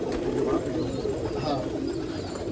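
Allahabadi pigeons kept in a loft in Nashik give a dense, continuous low cooing, several birds overlapping close by, with faint voices now and then.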